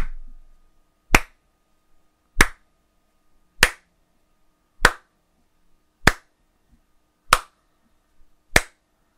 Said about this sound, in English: Here's me clapping at your brilliance.